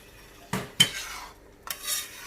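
Coriander and mint being stirred into a bitter gourd and onion curry in a pan, with a few distinct spoon scrapes and clinks over a soft sizzle, close by and brief, no talking.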